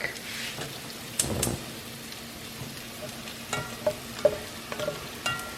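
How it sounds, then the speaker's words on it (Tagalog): Onion and garlic frying in a pan for lentil soup give a steady low sizzle, broken by a few louder stirring scrapes and clinks, close and moderately loud, with no talking. "So nilagay ko na yung onion at saka garlic."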